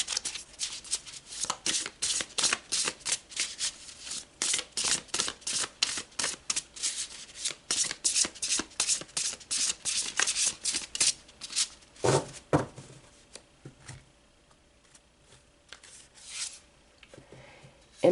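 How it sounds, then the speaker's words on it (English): Tarot cards are shuffled by hand in a rapid, rhythmic run of crisp riffling slaps that continue for several seconds before thinning out into a few softer shuffles. "Let's pull some more cards."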